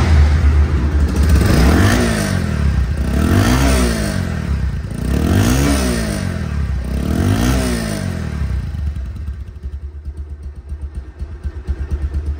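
A 2024 Pulsar double-disc ABS motorcycle with about 2000 km on it, close by and loud, revs hard four times in a rising and falling rhythm, then settles into a rough, uneven idle.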